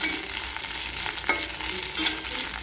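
Okra sizzles as it is roasted and stirred in a hot pan for dahi bhindi, a steady crackling fry with intermittent scraping strokes of the spatula, close and clear, no voices.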